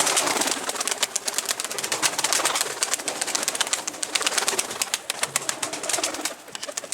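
Çorum tumbler pigeons coo continuously in a dense, overlapping chorus, close and fairly loud, with no talk.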